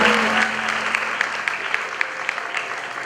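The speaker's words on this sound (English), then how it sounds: "Another round of applause for her, ladies and gentlemen." Audience applause at a graduation ceremony honoured by the Asantehene, a steady, dense clapping from a large crowd with a few sharper individual claps standing out near the end.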